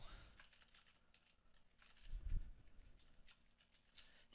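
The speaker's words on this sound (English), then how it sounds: "And there you see I can type in some values." Computer keyboard typing, with quiet, quick key taps in an irregular patter and a brief low thump midway, recorded faintly at a desk during a software demonstration.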